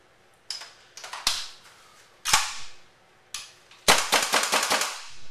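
WE AK74 airsoft rifle running low on gas, firing a series of sharp, close cracks: scattered single shots followed by a rapid burst of pops near the end.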